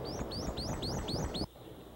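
A prothonotary warbler sings a quick series of about six rising, upslurred whistled notes, clear and fairly close, with low rumbling noise underneath, in Okefenokee Swamp.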